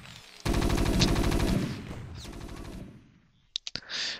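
Rapid automatic gunfire from StarCraft Marines attacking a barracks in a Terran-versus-Terran match, a dense stuttering burst that runs loud for about a second, then thins and fades, with a few sharp game effects at the end.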